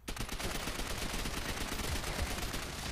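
Rapid sustained MP40 submachine gun fire in the video game Call of Duty: World at War, a dense continuous burst of shots lasting the whole stretch at steady loudness.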